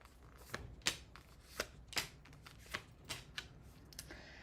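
Tarot cards shuffled by hand, a series of crisp riffling snaps and slaps at irregular intervals, close and fairly quiet with no voice.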